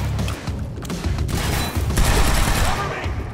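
Sustained gunfire in the action game Quantum Break, a dense fusillade of loud automatic bursts with heavy low booms, up close and continuous, with faint voices mixed in.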